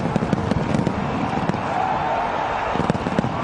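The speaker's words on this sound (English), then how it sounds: "Fireworks are off. They're banging away here, up in the sky, down on the ground." Fireworks banging both high in the sky and down on the ground, a rapid, irregular series of sharp cracks and booms over a dense, steady crowd rumble.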